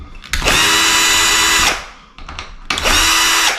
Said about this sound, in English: I'm going to start all my screws into my plywood backer.